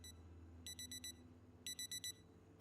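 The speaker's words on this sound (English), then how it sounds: "There's my alarm." A digital alarm clock beeps in the video game Project Zomboid, sounding two quick groups of four high electronic beeps each, faint over a low background hum.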